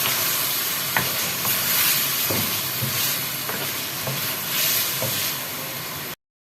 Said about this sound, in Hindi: इन सबको हम मिक्स करके इसमें हल्का सा भूनेंगे मसालों को